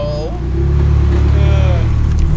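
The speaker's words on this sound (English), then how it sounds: "even though this car is from 2002, it still sounds amazing. And with that Capristo exhaust, it just sounds so good" A 2002 Ferrari sports car with a Capristo exhaust idles and revs nearby with a deep, steady rumble. Someone speaks briefly at the start.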